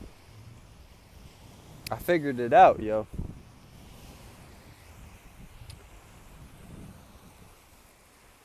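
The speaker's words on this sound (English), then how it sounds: "I hope y'all can hear me, cause it's kind of windy out here." Wind blowing outdoors makes a faint, steady low rumble throughout, with someone speaking briefly near the middle.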